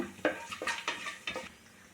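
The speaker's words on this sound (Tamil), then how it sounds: "ஏலக்காய், முந்திரி, லைட்டாக வறுத்துக்கோங்க." Cardamom and cashews lightly fried in a pan, heard as a few quick scraping stirs and clinks of a spoon against metal over a faint sizzle, close and brief.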